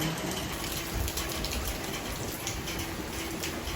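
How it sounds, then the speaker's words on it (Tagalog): Steady rain hisses continuously with a faint watery rush underneath, even and unbroken for the whole stretch, with no voices. "Mainit tapos ay umuulan"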